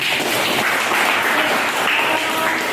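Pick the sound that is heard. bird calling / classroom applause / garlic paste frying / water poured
classroom applause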